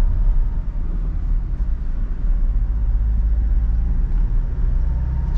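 Inside a Toyota Innova Reborn 2022 diesel manual type G as it accelerates in third gear, with a steady low engine rumble and road noise, loud and continuous.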